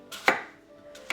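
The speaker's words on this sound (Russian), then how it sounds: "Яблоки я нарезаю кубиками." Two sharp knife chops strike a cutting board as apples are cut into cubes, about a second apart, close and crisp with no talking.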